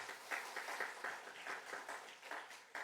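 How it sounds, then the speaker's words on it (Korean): Applause from a chapel audience at a Korean university worship service, a steady crowd clapping at moderate distance with dense, even rhythm throughout, no voices over it. "여러분 박수 먼저 한번 하겠습니다."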